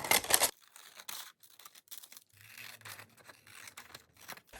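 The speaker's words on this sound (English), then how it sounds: "And then I'm going to cut around them to get rid of any excess" Scissors snip around vintage sewing pattern paper on a mixed media journaling card, a loud crisp rustle up front followed by quieter scattered cutting and paper crinkles.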